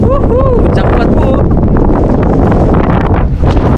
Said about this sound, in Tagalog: Sobrang lakas din na naririnig po yung hangin